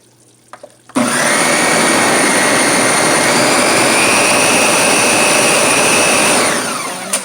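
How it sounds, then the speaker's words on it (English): A blender whirs up abruptly after a couple of soft clicks, blending a whole onion, running loud and steady for several seconds before winding down. "Let me show you the blender now that I've added the whole onion"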